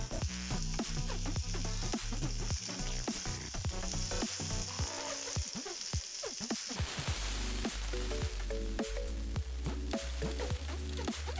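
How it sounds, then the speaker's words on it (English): Cucumber peel chutney with asafoetida and curry leaves fries on high flame in a pan, giving a steady, dense sizzle and crackle that runs continuously throughout, with no voices. "Then add the blended chutney and fry on high flame until it does not stick to the pan."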